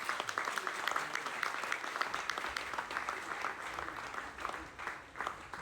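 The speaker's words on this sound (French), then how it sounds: "M. René Philogène, que je vous demande encore une fois d'applaudir chaleureusement" Warm, steady audience applause at the inauguration of a community centre in Pointe-Noire, a dense continuous clapping from a sizeable crowd that holds evenly and softens slightly toward the end, with no talking over it.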